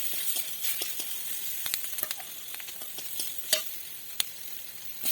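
Onions frying in a pan with turmeric powder and chopped green chili, a steady close sizzle broken by sharp clicks and scrapes of stirring, no voices.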